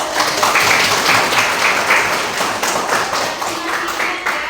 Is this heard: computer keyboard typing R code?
no